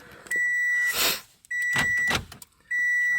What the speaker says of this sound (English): Ignition on.